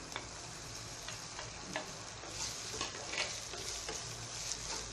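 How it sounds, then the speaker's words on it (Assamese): Potatoes fry and get stirred in a wok after onions, making a continuous soft sizzle with light scraping and tapping from the spatula, with no talking. "আৰু ইয়াতে এতিয়া আলুখিনি দিও ভাজি লওঁ।"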